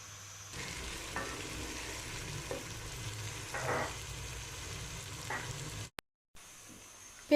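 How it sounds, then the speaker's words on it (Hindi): Onions sizzle and fry golden brown in a hot pan while cooking aloo chicken, giving a steady close crackle with occasional stirring bursts and no talking. "अब इसमें प्याज ऐड कर लेंगे और प्याज को गोल्डन ब्राउन कर लेंगे।"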